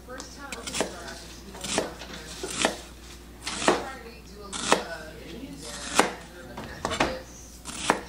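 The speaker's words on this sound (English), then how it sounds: "I diced up like a quarter of a red onion, and then I sliced the half of an onion" A knife chops red onion on a cutting board for a grinder salad sandwich topping, about eight crisp, evenly spaced strokes, roughly one per second, close and clear.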